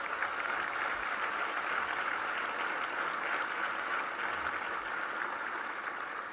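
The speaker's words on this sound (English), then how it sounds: "So let's give a round of applause for all of this" Sustained applause from a conference awards luncheon audience fills the whole stretch, a dense, steady wash of clapping with no voices on top.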